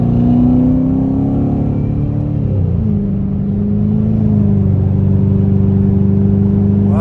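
A car engine revs hard in traffic as the driver presses the gas, a loud, close, steady roar that dips in pitch midway and then climbs and holds, with no talking over it.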